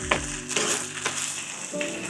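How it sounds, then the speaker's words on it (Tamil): Onion and green chili sauté in a pan with a little salt, a soft crackling sizzle broken by a few stirring scrapes, close and moderately loud over faint background music, with no voices. "இப்போ வெங்காயம் நல்லா வதங்கட்டும்"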